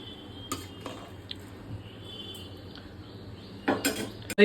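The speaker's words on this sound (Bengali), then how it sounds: "পেঁয়াজ পাতাটা দিয়ে দিলাম এইবার একটু নাড়িয়ে নিই" A utensil stirs chicken soup with spring onion greens in a pot. Sparse light clinks and taps scrape against the metal, growing into a louder cluster of clatters near the end, with no talking.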